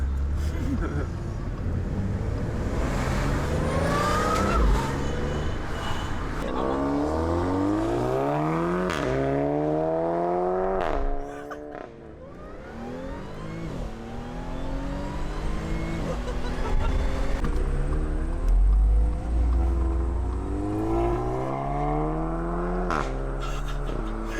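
An Audi S4 with an APR Stage 1 tune revs hard from inside the cabin. The engine note sweeps up and down in pitch several times, loud and close, with people talking over it.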